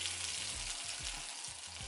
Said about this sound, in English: I'm gonna go ahead and add 2 tablespoons of butter